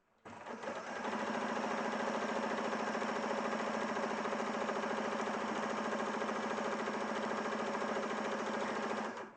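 A hand-cranked sewing machine runs steadily for about nine seconds, a close, even mechanical whir with a fast regular stitching rhythm and strong hum, starting abruptly and stopping at the end with no talking.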